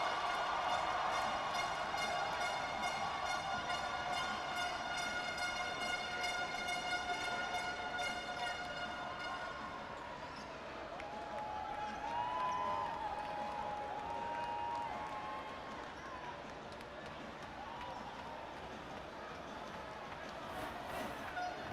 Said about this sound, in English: we will let you listen to the crowd